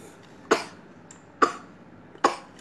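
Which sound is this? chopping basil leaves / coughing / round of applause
coughing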